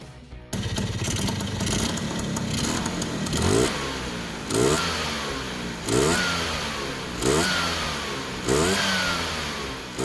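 A Vespa P200E scooter with a 208cc kit on the stock cylinder and a homemade banded clutch starts up close by, then gets revved in a series of sharp, rising two-stroke blips that fall back to a rattling idle between each.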